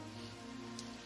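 Steady rain falls as a soft, even hiss across the whole moment, with faint patters on a surface and no voices, in the 1994 film The Crow.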